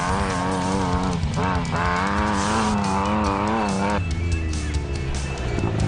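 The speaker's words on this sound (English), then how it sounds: "that Bantam is now running like a rocket" A Bantam rally car racing on a rally route, its engine revving hard and close in a loud, continuous rising and falling whine that shifts pitch as the driver changes gear.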